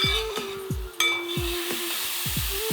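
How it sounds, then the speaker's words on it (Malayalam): Milk for beetroot payasam stirred in a pan with ghee, a spoon scraping the bottom in about five regular strokes over a soft steady simmer, close and moderately loud, with no talk. "നമ്മൾ ഇടയ്ക്ക് പാല് ഇളക്കി കൊടുക്കണം, അല്ലെങ്കിൽ അടിച്ചു പിടിച്ചു പോകും"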